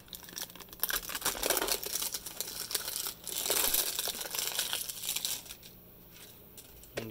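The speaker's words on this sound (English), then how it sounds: "Got a little pull tab here to peel back the foil." A foil seal peels off a dollar-store plastic container by its pull tab, a crisp close crinkling and tearing rustle that runs steadily for several seconds.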